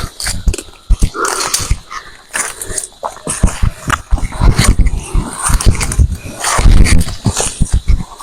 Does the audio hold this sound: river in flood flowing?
no